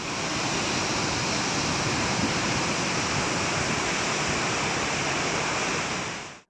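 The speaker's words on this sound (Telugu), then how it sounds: "ఆగో ఎట్లుందో చూడు జలపాతాల దుంకులాట." Waterfalls roaring in Adilabad, Telangana, including Pochera and Kuntala falls in full flow, a loud unbroken rushing roar that holds steady throughout before cutting off at the end.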